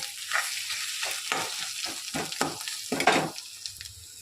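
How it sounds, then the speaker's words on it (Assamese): Fish roe fries with onions in a hot pan, a continuous sizzle broken by repeated scraping bursts of stirring, close and moderately loud with no talking. "মাছৰ কণীখিনি দি পেলাই এতিয়া ভালদৰে এনেকৈ পিঁয়াজখিনিৰ লগত মিল হোৱাকৈ পূৰা ভাজিব লাগিব"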